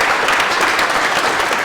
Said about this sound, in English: can you just give yourselves a round of applause?